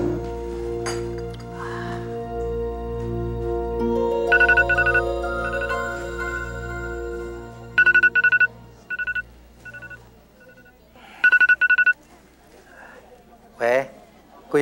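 A telephone rings in several short, bright, repeated bursts with pauses between them, laid over a sustained musical background in an indoor drama scene.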